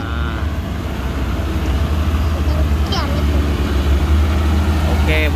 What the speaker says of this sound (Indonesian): Kita kedatangan lagi truk Puso